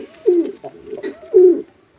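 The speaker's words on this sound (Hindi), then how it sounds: "मस्ताते हुए बढ़िया कबूतर हैं" Rampuri high-flyer pigeons cooing up close, two rolling coo phrases about a second apart with softer murmurs between, ending in quiet.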